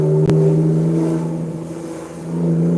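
A BMW with a straight-pipe exhaust revs between houses, a loud, close droning growl that dips briefly and swells again, with a sharp click near the start.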